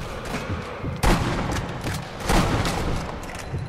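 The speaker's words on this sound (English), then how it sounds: "I guess I got that guy in the heart, even though it looked like I shot him in the shoulder" Sniper rifle gunshots in the video game Sniper Elite V2, two loud, sharp reports about a second apart, each trailing into a long rumbling echo over a steady noisy background.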